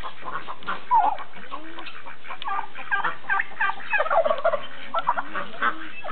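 Farm fowl, led by a turkey, call close by in bursts of gobbling and clucking that overlap through the whole stretch, with no one talking.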